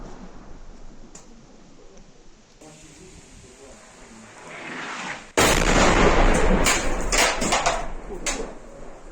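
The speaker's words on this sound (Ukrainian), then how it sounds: "Працює ворожа арта." Enemy artillery pounds positions during urban fighting in Sievierodonetsk: a low, rumbling backdrop gives way to a sudden loud barrage of heavy blasts and sharp cracking impacts that continue close and intense.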